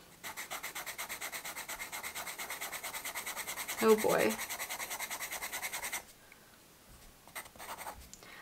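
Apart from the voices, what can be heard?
Conte a Paris charcoal pencil drawing on paper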